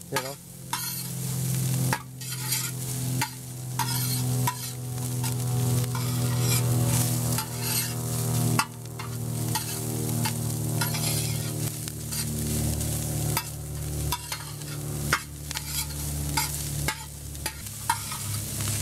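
Cauliflower stir-frying in a hot pan for Chinese fried rice, a loud continuous sizzle broken by repeated spatula scrapes and clacks throughout, close and busy.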